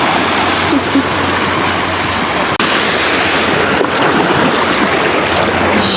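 Sea waves at Ao Nang Beach in Krabi, Thailand, wash in a steady, loud broadband rush with wind noise, a brief sharp knock partway through.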